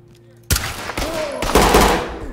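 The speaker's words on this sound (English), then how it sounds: "I shot you in the head." Gunfire in the tactical shooter game Ready or Not comes as a few sharp, loud shots in quick succession, with ringing tails between the reports.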